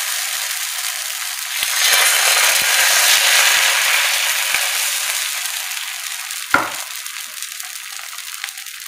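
Bhagar batter for fasting dhirde hisses into a steady, loud sizzle as it spreads over a hot griddle, with scraping of the spreading at the start and a single sharp clink near the end, and no voices.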